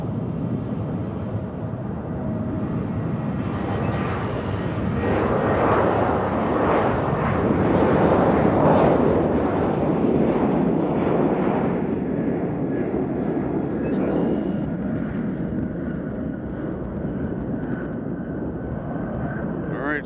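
An Avelo Airlines jet departs Nashville International Airport bound for New Haven, its engine roar swelling to a loud peak midway and then easing to a steady distant rumble.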